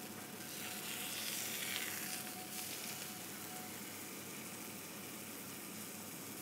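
Trout sears briefly in a hot pan, making a soft, steady sizzle with a faint hiss, fairly quiet and continuous with no voices.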